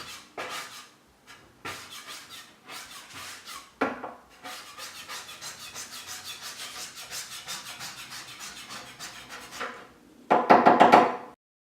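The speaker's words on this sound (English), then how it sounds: "basically I just scraped off all the harder edges" A scraper is pushed repeatedly across a wooden dresser top to strip old finish, giving a run of rhythmic rasping strokes, sparse at first and then quick and steady, ending in a louder burst of scraping, with no talk.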